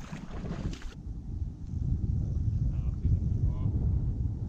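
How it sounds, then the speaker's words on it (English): Gusty wind buffets the microphone on a boat on a tidal river during a fishing trip, a steady low rumble with water lapping around the hull and a brief faint voice early on. "the wind's too bad in the current right here"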